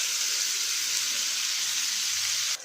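Green pea paste dropped into hot oil with asafoetida and nigella seeds, giving a loud, dense, continuous sizzle close by that cuts off abruptly at the end.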